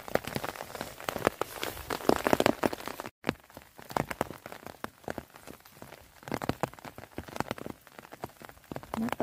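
Steady rain patters on surfaces around a mushroom picker in cold weather, a dense, close rattle of drops that runs nearly throughout with a brief gap partway.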